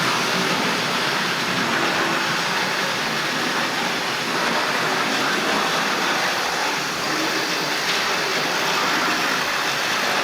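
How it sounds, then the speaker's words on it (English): Tri-ang Hornby model locomotive running at express speed around a layout, a steady close rolling rumble and hiss of wheels on track that holds at an even level throughout without a break. "That's a lovely fun model, iconic looking locomotive."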